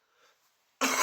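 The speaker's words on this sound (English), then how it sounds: "Completely apologise for coughing again." A single sharp, loud cough bursts out close to the microphone after a moment of near silence.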